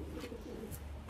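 Racing pigeons coo softly in a loft, low murmuring calls against a steady background hum, faint and close, with a brief chirp near the end.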